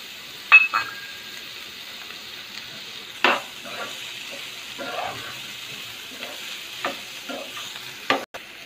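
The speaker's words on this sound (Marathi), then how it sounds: "भाज्या चांगलं परतून घेणार आहोत आपण।" Mixed vegetables for street-style veg fried rice stir-fry in a pan with a steady low sizzle, broken by a handful of sharp spatula scrapes and clinks spaced a few seconds apart.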